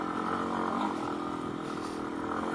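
Yamaha XT250 dirt bike climbing an uphill choppy section of rough ground at speed, its engine a steady, unbroken drone held at a constant pitch throughout, close and moderately loud, with no talking.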